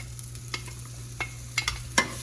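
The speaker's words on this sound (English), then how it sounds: "You can hear that sizzle," Diced onions sizzle in hot canola oil in a pan, a soft steady frying hiss broken by a few sharper crackles and pops, heard up close with no talking.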